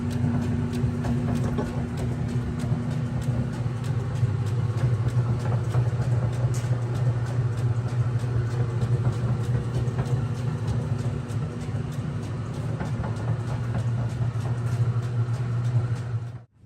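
A 1943 South Bend lathe runs steadily after being freshly wired, a continuous motor hum with a low tonal drone and faint mechanical rattle, stopping abruptly at the end.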